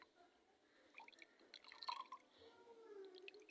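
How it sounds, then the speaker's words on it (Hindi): Water is added to a container, producing faint, sparse drips and light trickling splashes at a distance, quiet throughout. "ये आप दोस्तों के सामने इसके अंदर मैं पानी ऐड करता हूँ।"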